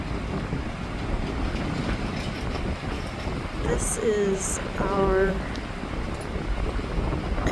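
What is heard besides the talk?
strong wind blowing outdoors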